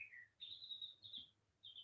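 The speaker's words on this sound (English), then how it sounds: "And if you can hear the bird, it's beautiful out there." A bird sings outdoors along a country path, giving several short, clear chirping phrases with brief pauses between them, faint and somewhat distant, with no voices.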